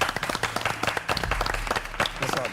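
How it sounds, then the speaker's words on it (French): A studio audience at a television talk show claps to welcome a veteran Ivorian film actor, a brief, lively burst of close, uneven handclaps. "S'il vous plaît, sous vos ovations."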